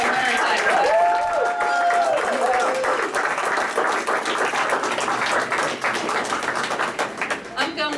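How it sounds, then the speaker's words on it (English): Sustained applause from an audience at a city council meeting, dense clapping that carries on for several seconds and thins toward the end, with a voice speaking over the start. "Ladies and gentlemen, let's give them another round of applause"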